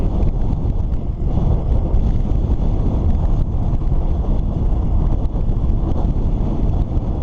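Constant rough wind buffeting roars across the microphone while cycling, loud and unbroken throughout, with no voices.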